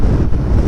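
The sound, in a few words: strong wind blowing near windmills on Kanyakumari bypass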